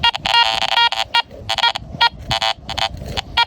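A Garrett Ace 400i metal detector gives a series of short electronic beeps in irregular bursts, some fast and choppy and others held a little longer, fairly clear over faint low background noise.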